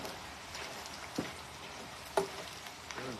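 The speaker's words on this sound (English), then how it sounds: "And I have my fryer here on 375." Tortilla chips deep-frying in a fryer oil at 375 degrees, a soft continuous sizzle and bubbling with a couple of sharper clinks or pops, fairly quiet and steady without talk.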